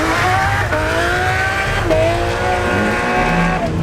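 A Lamborghini launches hard from a standstill with the clutch dumped at high revs, its engine roaring loudly close by as the tires squeal with rising, wavering pitch.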